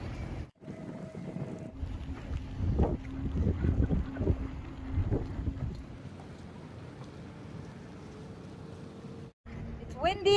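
Wind and rain on a crabbing boat off Garibaldi, Oregon, roar and buffet the microphone in uneven gusts, with a few faint thumps and creaks from the boat.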